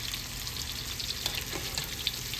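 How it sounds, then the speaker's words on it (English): Garden-fresh vegetables frying in a pan, old-school Southern style, giving a steady close hiss and crackle of hot oil with small pops throughout, no voices. "This fry takes about 2 or 3 minutes, and it's ready."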